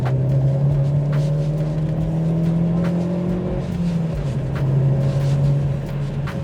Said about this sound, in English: You can definitely hear whooshing turbo and wastegate noises.